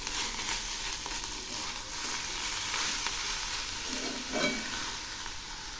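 Taro pieces sizzle steadily in a pan while being stirred with salt, turmeric and chili powder, a continuous broad frying hiss with occasional scraping strokes and no talk.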